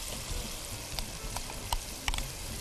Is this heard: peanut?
yes